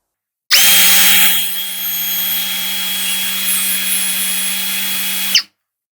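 A Lucid LX-60 cordless drill spins at maximum speed, producing a steady, close, high-pitched motor whine for about five seconds that starts and stops abruptly.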